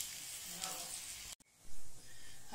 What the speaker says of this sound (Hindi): अब हम इसमें बारीक कटा हुआ प्याज डालेंगे।